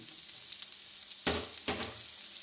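Onions sizzling faintly in a hot pan for a crab and coconut milk stew, a soft steady fry broken by two louder bursts of sizzle and stirring.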